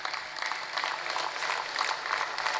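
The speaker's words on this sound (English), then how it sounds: "A standing ovation to our National Chairman" Crowd applause during a standing ovation for a national chairman, a dense, even wash of many hands clapping at moderate distance, sustained without a break and with no voice over it.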